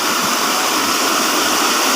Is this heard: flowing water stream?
yes